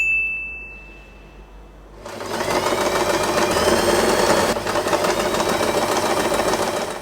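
A sewing machine stitches fabric for a hair bow, starting after a couple of quiet seconds with a faint tone, then running continuously in a close, fast mechanical whirr with rapid needle clatter.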